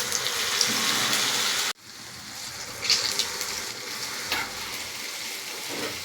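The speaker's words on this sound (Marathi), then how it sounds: "मग हा वडा त्याला सोडायचा" Medu vada frying in hot oil, a dense steady sizzle that drops sharply for a moment then resumes as a softer bubbling hiss, no voices.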